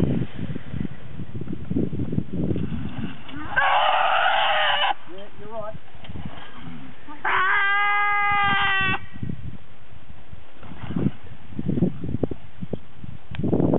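A goat bleats twice, a loud harsh bleat and then a wavering, strongly pitched one a few seconds later, close by outdoors over rustling and low background noise, with no talk.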